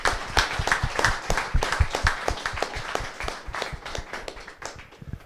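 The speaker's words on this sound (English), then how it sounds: "if we could please give our panelists a big round of applause" An audience claps for the panelists after a millennial panel discussion: dense, steady applause with sharp individual claps, fairly close and loud, tapering slightly toward the end with no talk over it.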